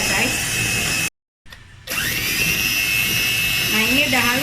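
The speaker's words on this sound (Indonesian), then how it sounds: "jadi kita matikan dulu mixernya" Electric hand mixer blending banana cake batter, a steady close motor whine that cuts out briefly, then runs on again to the end while a person talks over it.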